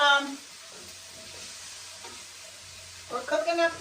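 An onion sizzles faintly in a pan with Wesson oil in a home kitchen, soft crackling and stirring under someone speaking at the start and end.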